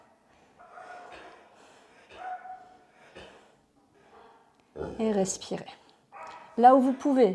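A dog barks and yips a few times close by during a gentle yoga session, its sharp calls breaking out near the end while someone speaks calm instructions over soft background.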